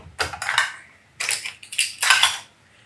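Food being tipped into a kitchen strainer in a home kitchen, giving three bursts of crisp rattling and clattering, close and fairly loud, with no voices.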